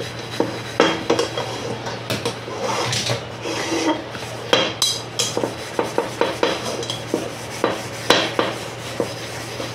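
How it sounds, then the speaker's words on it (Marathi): Scrubbing a greasy iron kadhai clean, rhythmic rasping and scraping strokes against the metal with occasional clanks, close and repeated about once a second, with no talk. "अशा पद्धतीने आपण ही कढई सुद्धा साफ करून घेऊया."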